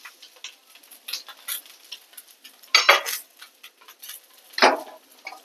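Cumin seeds are tipped into a pan of dry-roasted garlic and curry leaves and stirred for a flaxseed chutney, making light close scraping, pattering and clinking sounds with two louder rattling strokes amid near silence.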